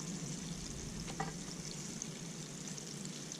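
Steady, dense sizzling and crackling of catfish frying in hot oil, continuous and close, with a faint clink partway through.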